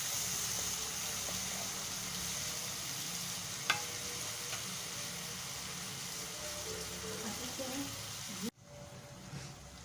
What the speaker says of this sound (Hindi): धीमी आंच पे हम इसे फ्राई कर रहे हैं ताकि मसाला हमारा जले नहीं